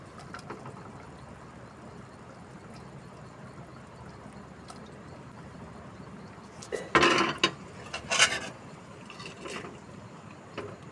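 Washed fish pieces go into a pan of curry a little at a time, with a couple of loud close clanks and soft wet plops against quiet kitchen background.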